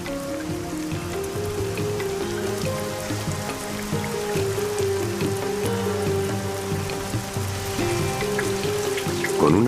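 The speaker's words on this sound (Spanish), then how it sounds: "El resultado es la lluvia." Heavy rain pours steadily in Australia's mountains near cloudy Thornton Peak, a dense, continuous hiss of drops on surfaces with a tonal musical bed underneath.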